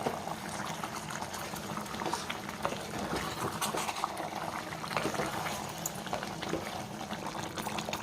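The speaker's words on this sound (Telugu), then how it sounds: "ఇది కర్రీ చూద్దామండి. చూసారుగా చక్కగా ఉడుకుతుంది" A pot of chicken curry bubbles and simmers steadily up close, a soft continuous gurgle of thick liquid cooking.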